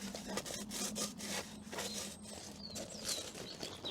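A wad of paper towel is rammed through the seat post tube of a FLIT-16 folding bicycle with the seat post clamp open, giving a steady run of close, rhythmic rubbing and scraping strokes.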